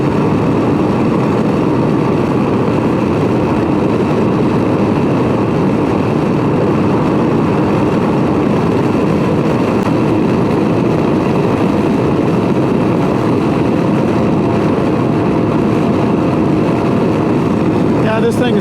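A 2019 Can-Am Ryker three-wheeled motorcycle rides through town, its engine droning steadily with heavy wind rush throughout, loud and constant.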